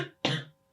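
A single short, moderately loud cough from a throat tickle cuts in after a faint breath, then fades into quiet.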